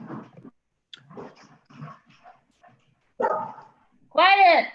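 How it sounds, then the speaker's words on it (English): Dogs barking outdoors at a groundhog in a woodpile, a short harmonic burst of barks near the end after stretches of talk. "I'm glad they're just barking at it right now."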